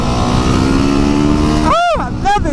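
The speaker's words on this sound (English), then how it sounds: "Oh, I love this bike, baby. WR 250 fucking R, baby." A Yamaha WR250R dual sport motorcycle engine roars loud and close, then rises in a sharp rev and eases off, followed by a second shorter rev, with wind noise throughout.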